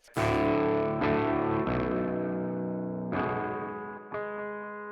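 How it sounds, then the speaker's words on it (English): An electric guitar runs through a Quad Cortex with a Zilla V30 cabinet and reverb, playing distorted sustained chords. Several struck chords ring out with long washy tails, loud and alone. "We added in the whole reverb just for the intro."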